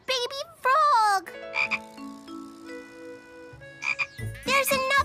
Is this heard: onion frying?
no